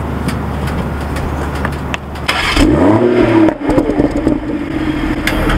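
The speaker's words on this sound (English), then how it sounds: "Let's get a cold start on this thing." A supercar engine cold-starts with a cranking burst, then catches and flares into a loud, rising rev before settling into a steady, rumbling idle close by.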